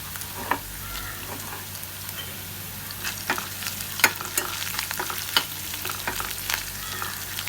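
Ginger and garlic browning in pomace olive oil crackle and sizzle steadily up close, with scattered sharp pops and occasional stirring taps.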